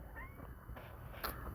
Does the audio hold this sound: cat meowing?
yes